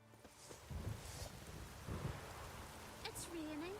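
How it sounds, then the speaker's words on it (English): Rain and thunder from a storm in a Witcher game, steady rainfall hiss with low rumbling thunder swells, fairly faint, with short bits of other game sound over it. "It's raining"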